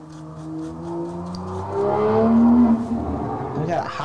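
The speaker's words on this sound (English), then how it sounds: "Can you guys hear their car hot riding?" A hot-rodding car revs and accelerates somewhere in a residential neighborhood, its rising engine note swelling and fading at a distance, with talking voices in the room over it.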